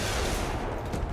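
Rapid, dense gunfire in a shooter video game, a continuous loud barrage of overlapping shots with no pauses.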